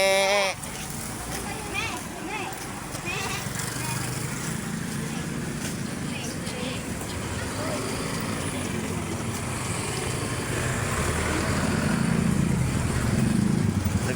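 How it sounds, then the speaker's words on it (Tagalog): A goat bleats briefly at an outdoor resort in Naic, Cavite, partly under people chatting and steady background noise. "May kambing, oh."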